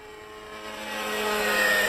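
Model helicopter engine running on 30% fuel at an airfield, a buzzing whine swelling steadily louder over a brief stretch, with no talking.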